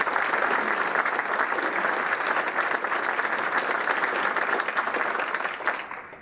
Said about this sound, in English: I'd love to give them a round of applause before I begin